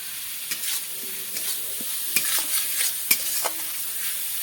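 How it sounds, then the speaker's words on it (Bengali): Spices stir-fried in a pan give a soft, continuous sizzle broken by sharp spatula scrapes and clicks against the metal, close and fairly quiet, with no one speaking. "দিয়ে রাখা মশলাটা আমি দিয়ে দেবো। এবার খুব ভালো করে কষে নেব।"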